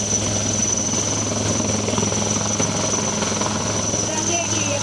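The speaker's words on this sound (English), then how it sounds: "Let's see the special forces steadily moving towards the advanced light helicopter." An Indian Army advanced light helicopter at Budgam Airport gives off a steady, loud rotor and turbine drone throughout, with a constant high whine and voices faintly over it.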